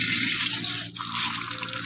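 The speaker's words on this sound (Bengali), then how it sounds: "শাকটা আমি ধোবো" Drumstick (sajna, moringa) leaves being washed under running tap water, a steady, full rush of water that stays close and loud throughout, with no voices.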